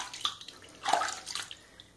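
Warm bath water for a baby splashes and sloshes in a tub in short uneven bursts, swelling to a louder slosh near the middle before settling to faint drips.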